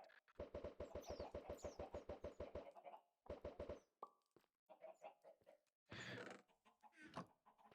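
Minecraft chicken sounds from the video game, a rapid run of evenly spaced clucks followed by scattered short clucks, pops and plops, fairly faint, with no talking.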